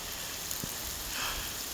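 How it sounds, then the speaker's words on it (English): Rain falls outdoors as a steady, fairly faint hiss of drops, with no voices and no other sounds over it. "It's been so long since we've had beautiful rain, and it's just lovely."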